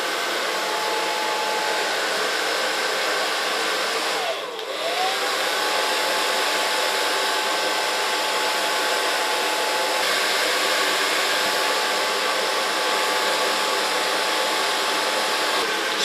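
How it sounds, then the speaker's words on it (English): A hair dryer blow-drying short hair in a salon, a loud, steady close whir that runs unbroken for the whole stretch, with only a brief dip in the airflow partway through. "I just blow dry it in the natural fall"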